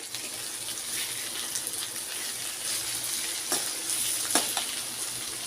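Pieces of papaya and potato fry in a pan with a constant soft sizzle, broken by occasional sharp clicks and scrapes of stirring.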